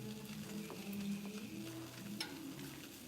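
Mushrooms sizzle softly in a pan, a quiet steady crackle with light stirring scrapes and a faint clink partway through, no voices.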